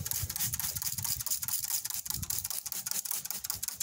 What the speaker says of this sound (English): And you're going to spray them.